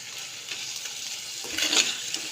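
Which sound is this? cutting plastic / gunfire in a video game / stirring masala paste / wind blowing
stirring masala paste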